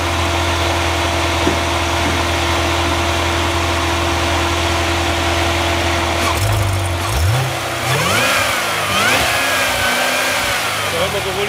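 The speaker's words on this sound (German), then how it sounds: "Da hören wir sowohl den V8 als auch den Supercharger." A 2015 Chevrolet Corvette Z06 with a supercharged LT4 V8 idles steadily, then is blipped through several sharp revs that rise and fall, loud and close, with supercharger whine mixed in.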